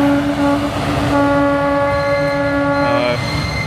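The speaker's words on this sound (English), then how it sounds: "So the train is coming in and out." A train on a children's railway in Russia run by students rolls in, its horn sounding loudly in long steady tones with a brief pause partway through, over the low rumble of the cars.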